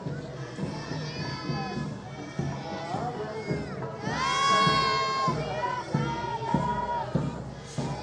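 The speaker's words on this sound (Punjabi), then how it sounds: "ਇਹ ਛੋਟੇ ਛੋਟੇ ਬੱਚੇ ਜੋ ਸਿੱਖੀ ਸਰੂਪ ਦੇ ਵਿੱਚ ਜੈਕਾਰੇ ਛੱਡਦੇ ਹੋਏ ਬੋਲੇ ਸੋਨੇਹਾਲ ਸਤਿ ਸ਼੍ਰੀ ਅਕਾਲ" Crowd of young Sikh children shouting jaikara chants in unison at a Nagar Kirtan procession at Fatehgarh Sahib, Punjab, with loud overlapping voices, cheering swells and rhythmic calls over a dense, busy outdoor crowd.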